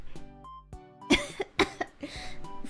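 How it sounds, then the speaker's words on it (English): A woman coughs several times in quick, close bursts, a couple of sharp hacks followed by a rougher, breathier cough at the end, with faint background tones between them. "I still have a cough."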